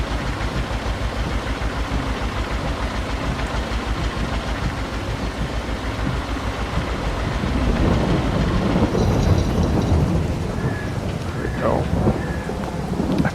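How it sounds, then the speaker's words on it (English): Steady rain pours in the Farming Simulator 22 game world, with low rumbling thunder underneath and a heavier, louder stretch of rain and thunder toward the end. "8 o'clock, it's raining"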